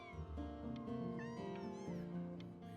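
Several cats meow in the video game Before Your Eyes, overlapping tonal cries with rising and falling pitch heard close and fairly quiet, one after another across the moment.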